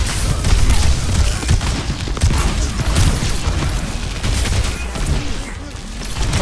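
Continuous roar of grenade blasts and gunfire in Overwatch 2 competitive play, dense and loud for several seconds, with a voice faintly mixed in.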